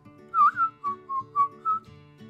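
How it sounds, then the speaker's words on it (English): A person whistles a Snow White tune solo, six clear bouncing notes in a short melodic phrase, close and clean with no other sound. "Now, I believe every adult knows this tune from Snow White."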